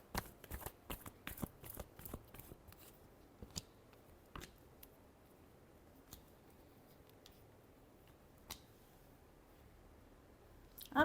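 A tarot deck being shuffled by hand: crisp riffling clicks and snaps come in dense bursts over the first few seconds, then thin out to scattered soft taps, all quiet and close with no voices.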